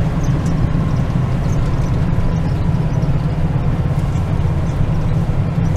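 A car rolls over a rough road outdoors in South Dakota, a steady low rumble of tires and engine running without a break from start to end, loud and close, with no talk over it.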